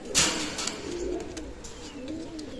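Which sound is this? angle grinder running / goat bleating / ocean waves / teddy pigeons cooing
teddy pigeons cooing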